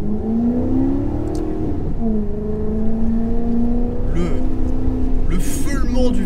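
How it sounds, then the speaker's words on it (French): A Maserati GranTurismo Sport's V8 engine holds a loud, steady growl that rises slightly in pitch while driving, with a person speaking over it. "Le feulement du V8."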